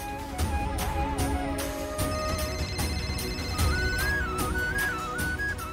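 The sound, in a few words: phone ringing, incoming call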